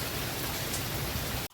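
Heavy rain pours down during a storm, a dense, steady hiss of close downpour that cuts off abruptly at the end.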